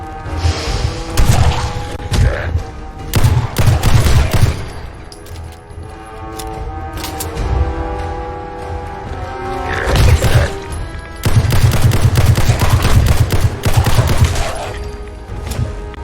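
Beretta pistol fire in Fallout 4 comes in loud, rapid bursts of close shots with crashing impacts, a pause mid-way, then another dense volley, with no speech.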